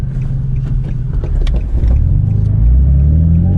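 Nissan 350Z engine rumbling from inside the car on a normal road, with a deep steady drone that swells as it pulls away from a stoplight and stop sign and accelerates.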